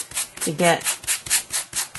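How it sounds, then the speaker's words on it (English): Rhythmic back-and-forth strokes of a sanding block on an embossed card rasp close by, about eight in two seconds, with a brief spoken word in between. "take your sanding block and just sand away"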